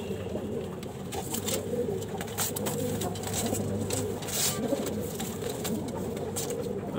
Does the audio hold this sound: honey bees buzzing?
no